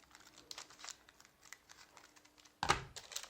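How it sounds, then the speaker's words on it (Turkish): Scissors snipping Nescafe paper packaging, soft crinkly cuts and rustling at close range, faint and quiet, ending in a sharper crunch of paper. "O kat payını da kesiyorum arkadaşlar."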